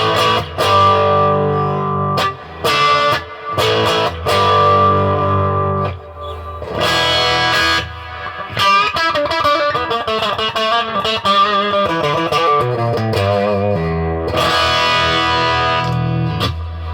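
Electric guitar through a Victory DP40 amp with hard-edged midrange gain and some reverb, strummed chords and fast single-note runs ringing loud and close for the whole stretch, with no talking.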